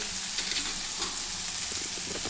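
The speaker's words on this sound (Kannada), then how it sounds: "ಈಗ ನೋಡಿ ಫ್ರೆಂಡ್ಸ್, ಸ್ವಲ್ಪ ಗಸಗಸೆ ಹಾಕ್ತಿದ್ದೀನಿ" Poppy seeds hit a hot pan while cooking a Kannada-style avarekalu sambar, giving a steady, dense sizzle and frying crackle throughout, close and even, with no voices over it.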